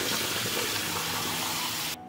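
Cold tap water runs steadily over nokedli dumplings draining in a strainer, a continuous close splashing hiss that cuts off abruptly at the end.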